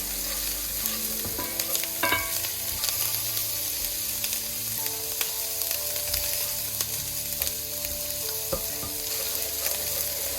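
Garlic and ginger stir-frying in a pan for Sichuan green beans, a steady close sizzle with scattered scraping and clinking of a utensil being stirred throughout, with no talking.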